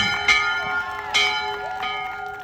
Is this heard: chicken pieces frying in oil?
no